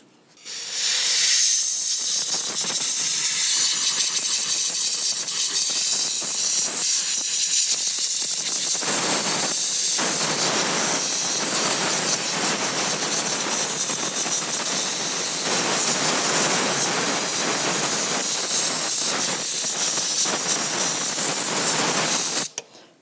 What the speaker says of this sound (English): let's grab a compressed air gun and go ahead and spray away any of the debris in the area.